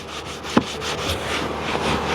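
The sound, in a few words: scrubbing car seat with pink scrub pad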